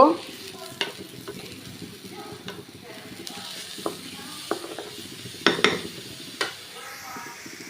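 Food frying in a pan with Maggi masala as an evening snack is made, a soft continuous sizzle broken by intermittent clinks and scrapes of a spatula against the pan.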